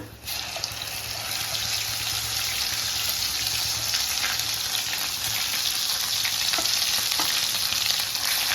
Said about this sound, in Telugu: ఉల్లిగడ్డలు ఇందాక ఫ్రై చేసిన కదండి, అదే పేస్ట్ చేసుకున్నా, మిక్సీ వేసిన, అది ఇందులో వేస్తున్నా.